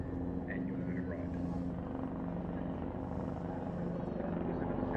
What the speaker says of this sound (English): The Australian Army ARH Tiger.